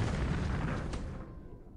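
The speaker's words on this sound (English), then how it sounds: "We do take some return fire" Naval gunfire in the computer war game War in the Pacific, a dense burst of booming shots that fades into a quieter rumble at the end.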